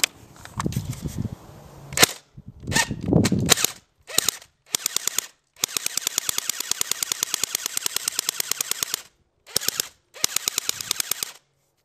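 An airsoft gun firing at an iPod Touch with a metal back, starting with a few loud sputtering bursts and then long runs of rapid, evenly spaced sharp shots broken by short pauses, close and with no talking.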